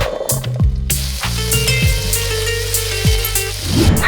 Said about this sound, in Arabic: بس راح اعطيه تحميصة بسيطة بالزيت